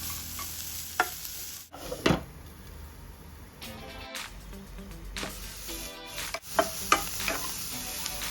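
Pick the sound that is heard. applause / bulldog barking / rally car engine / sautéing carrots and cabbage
sautéing carrots and cabbage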